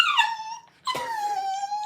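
A dog whimpers and whines in high, drawn-out cries, two separate wails split by a short pause, close and loud with no talk over them.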